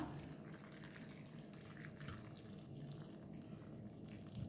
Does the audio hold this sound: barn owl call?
no